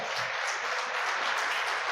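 Church congregation applauding during a seminar service, a dense, steady wash of many hands clapping close by, continuous and fairly even throughout with no talk over it.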